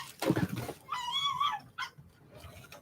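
Small pet dog Lucy giving a few short barks and whiny yips, close by in a quiet indoor room, with a sharp bark at the start followed by a drawn-out whimpering cry and softer yaps.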